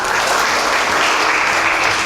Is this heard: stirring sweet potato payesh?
no